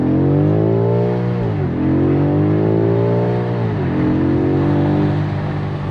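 A 4.4-litre V8 car engine revs up strongly through the gears, its rising growl dipping briefly at each shift before climbing again, loud and close.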